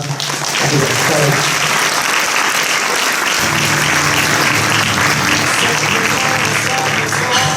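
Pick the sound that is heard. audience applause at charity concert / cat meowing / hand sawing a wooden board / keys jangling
audience applause at charity concert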